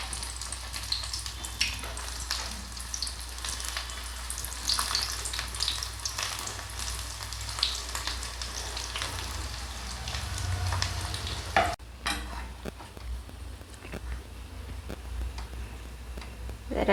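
Balls of plantain kola mixture frying in hot oil make a continuous, fairly loud bubbling sizzle that shifts abruptly partway through, with small ticking pops and no talk.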